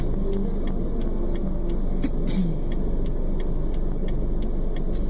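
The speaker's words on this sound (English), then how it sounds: "You can see there's a lot of traffic on this roadway." Steady road traffic on a busy Bahamas roadway near an intersection, cars passing continuously as a constant wash of engine and tire noise, fairly loud and even throughout.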